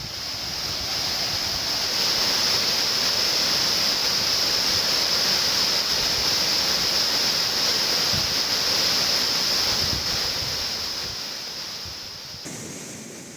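Heavy torrent of water at Courtallam's Main Falls and Old Courtallam Falls after heavy rain in the hills, a steady loud roaring rush that holds constant throughout and eases slightly near the end.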